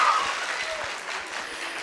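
Applause at a school debate competition between Mpesa Foundation Academy and Mary Leakey Girls High School, a steady crowd clapping filling the whole stretch at even loudness, with no voices over it.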